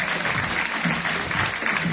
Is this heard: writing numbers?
no